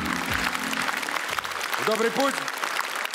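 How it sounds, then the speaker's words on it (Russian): A Comedy Club audience applauds comedian Dmitry Ksenofontov with steady, continuous clapping from a large crowd, while someone speaks over it near the mic. "Димка, наслаждайся этими аплодисментами"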